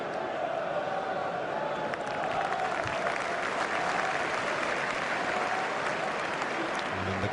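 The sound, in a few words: football fans applauding an opposing player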